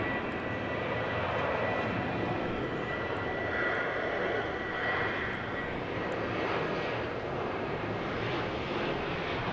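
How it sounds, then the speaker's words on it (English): A NetJets Bombardier Challenger 350 business jet roars at Dallas Love Field, a broad, steady engine wash holding even and moderately loud for nearly ten seconds with no voices. "It's a Bombardier Challenger 350, NetJets, flight 755"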